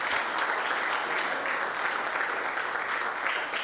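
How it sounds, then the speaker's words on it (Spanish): Church congregation applauding, a dense, steady wash of many hands clapping at once, loud and sustained throughout with no break. "dele fuerte ese aplauso al Señor"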